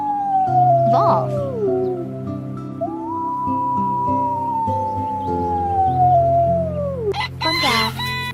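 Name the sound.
wolf howling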